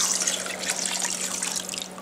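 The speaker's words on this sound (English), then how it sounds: "Then you want to put about 3 cups of water over your ribs." About three cups of water poured over ribs in a big pot, a steady splashing, gurgling stream that runs for a couple of seconds, close and fairly loud with no speech.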